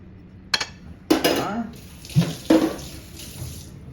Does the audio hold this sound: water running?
yes